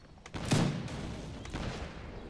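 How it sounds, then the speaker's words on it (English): Cannon fire in the Mount&Blade battle game, a heavy distant boom with a rumbling tail followed by a second fainter thud, heard alone without voices. "Cannon."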